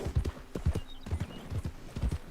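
Horse hooves clip-clopping in a steady galloping rhythm as Arthur Morgan rides through Red Dead Redemption 2, close and clear with no talk over it.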